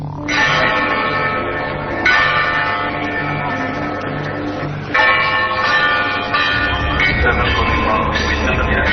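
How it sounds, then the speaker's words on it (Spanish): Church bells at Fátima, a pilgrimage site, ringing in a sequence of loud struck tones with long overlapping ringing decays, each new strike coming every few seconds, alone with no voices. "Estas son las campanas, así suenan campanas, de un lugar llamado Fátima"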